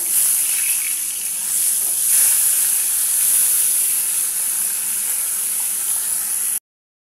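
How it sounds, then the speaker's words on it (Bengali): Pieces of marinated rohu fish fry in hot oil with a steady, loud hiss and sizzle that holds evenly for several seconds, then cuts off abruptly. "সেটাই এখন একটু ভেজে নিই ভালো করে"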